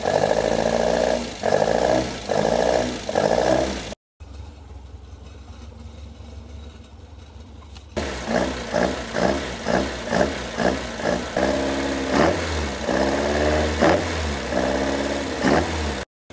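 A car engine runs steadily at idle while warming up, with a rhythmic low pulsing throb, loud and close, interrupted midway by a brief quieter, muffled stretch.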